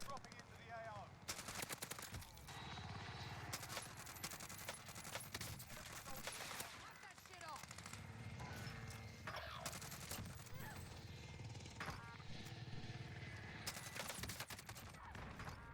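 Rapid automatic gunfire from Warzone combat, sustained bursts of loud shots running almost continuously over other game sounds, with a voice talking in places.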